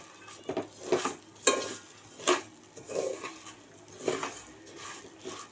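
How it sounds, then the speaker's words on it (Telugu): Bambino vermicelli being stirred as it fries in a pan, with a spoon scraping and clinking against the metal in irregular strokes roughly every second, close and fairly clear over a quiet background. "ఇలా నెమ్మదిగా వేయించుకుంటూ ఉండాలి. కలుపుతూనే ఉండాలి, లేకపోతే మాడిపోతాయి."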